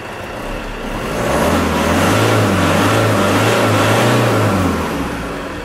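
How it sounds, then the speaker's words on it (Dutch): A camper van engine revs up as the throttle is pressed, its pitch climbing and holding for a few seconds before easing back down, loud and close with no talk. "En als ik dan nu gas ga geven."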